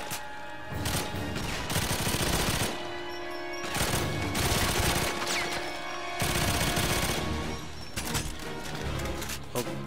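Gunfire in the PS3 game GoldenEye 007 Reloaded on a station elimination mission: dense, sustained bursts of automatic fire and shots fill the scene loudly, broken by brief pauses, with a steady tonal game hum underneath.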